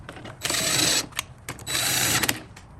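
A ratchet on a 14mm socket turns transfer case bolts on an 80/100 Series Toyota rebuild. Two long, loud bursts of rapid clicking come up close, with a short pause and a few stray clicks between them.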